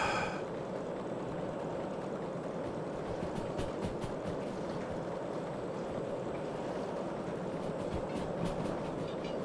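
Train running on rails in a train simulator game, with a continuous low rolling rumble and scattered metallic clicks of wheels over joints, steady and moderately loud, with no voices.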